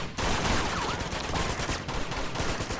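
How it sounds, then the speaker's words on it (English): Rapid automatic AK rifle blind-fire in Uncharted 2: Among Thieves, loud continuous bursts of shots with brief gaps, close and dominant with no talking. "I hate the AK when it comes to blind firing"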